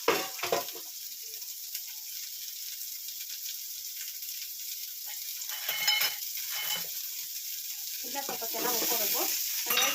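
Oil frying in a pan while cooking chicken sambar, a steady close sizzle throughout with occasional stirring scrapes and louder crackling bursts near the middle and end.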